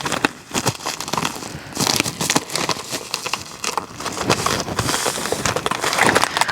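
Plastic or paper packaging for an Etsy order crinkles and crackles as it is handled and sealed shut, continuous close rustling and crumpling with irregular louder bursts, no voices.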